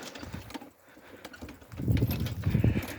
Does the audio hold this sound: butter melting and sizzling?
no